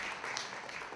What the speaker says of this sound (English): Another round of applause for Alderman Ted Mesiacos